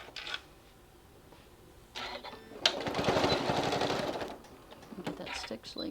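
A sewing machine stitches around the layered edges of an oven mitt in one rattling burst of roughly two seconds, with a person talking before and after.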